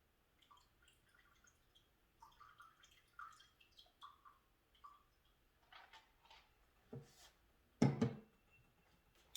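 A cocktail is poured slowly from a shaker without a strainer, giving small scattered drips and trickles of liquid, soft and close, then a louder splash and clunk near the end.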